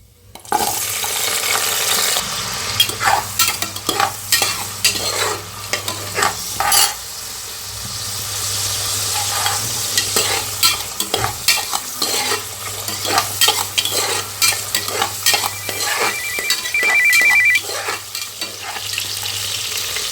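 Whole shallots fry in oil for a country chicken curry, giving a loud, close sizzle with bursts of crackling and stirring scrapes, plus a low steady hum in the background.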